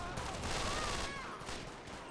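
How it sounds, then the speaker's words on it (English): Blind fire from a gang shootout in GTA V, a continuous faint rattle of rapid shots with whining tones running through it, with no pauses over the short stretch. "we're just going to blind fire"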